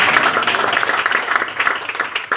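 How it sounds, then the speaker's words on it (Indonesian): Applause from a church audience, a dense, steady wash of many hands clapping together at close range, loud throughout the short stretch with no clear speech over it. "Beri tepuk tangan bagi kemuliaan Tuhan."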